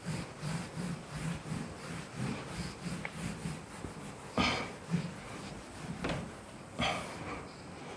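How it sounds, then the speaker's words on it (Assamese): A classroom board is wiped clean with steady rhythmic rubbing strokes, close and continuous, with a few sharper scrapes near the end and no talk. "এইখিনি মই মুছি দিলোঁ।"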